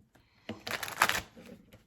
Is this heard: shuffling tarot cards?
yes